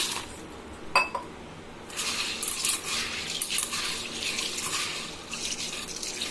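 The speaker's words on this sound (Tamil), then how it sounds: "இப்போ தண்ணி ஊற்றி நல்லா கழுவிடலாம்" Water pours and splashes into a bowl, swirling and sloshing as millet grains are rinsed, after a light clink near the start.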